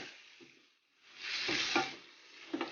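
Shrimp and prawns sauté in butter and garlic with ginger, a soft sizzle swelling as they hit the pan, with a few light stirring scrapes, fairly quiet and without talk.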